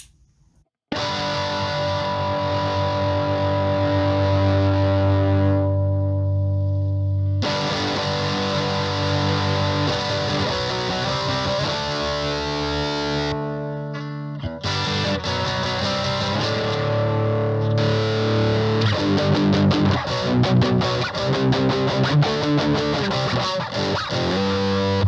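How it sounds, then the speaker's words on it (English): Electric guitar played through a Tube Screamer driving a ProCo RAT distortion pedal, loud sustained distorted chords and riffs with brief gaps between phrases, no talking. "you can use a tube screamer to take it from that kind of overdrivey sound into distortion really nicely"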